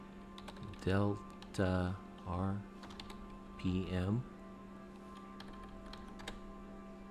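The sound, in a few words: typing on a computer keyboard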